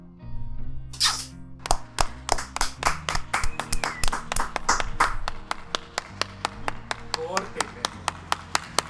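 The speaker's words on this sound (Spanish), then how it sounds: "Un aplauso para todos, los quiero." Applause at the close of a podcast episode, a few people clapping sharply and unevenly, with overlapping voices and laughter at first, thinning to single isolated claps near the end.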